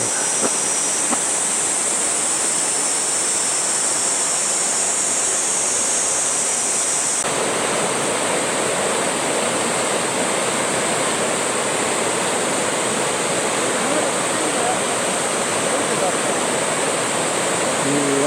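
Gorae Falls, the seventh of the twelve waterfalls on Seongchisan in Geumsan, South Chungcheong, heard as a loud, steady, broadband roar of falling water that continues unbroken throughout.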